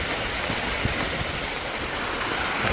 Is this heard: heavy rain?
yes